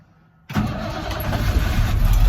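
Pickup truck engine in extreme cold, around minus thirty, cranking briefly after a quiet pause and then catching into a loud, steady rumbling idle up close.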